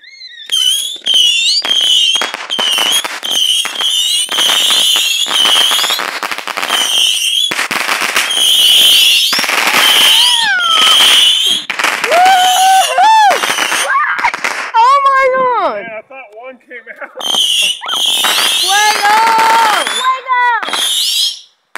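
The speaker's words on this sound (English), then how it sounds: "We're gonna light some Saturn missiles." Saturn missile fireworks launching in quick succession outdoors, a rapid string of sharp whistling pops and crackles, some shrieking upward, loud and close, with brief pauses between volleys and people talking in between.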